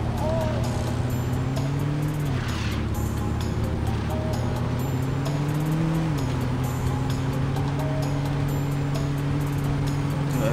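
Car engine in the 2006 video game Saints Row, driving along a highway: a steady, close engine drone that shifts pitch near the two- and six-second marks, running without pause throughout.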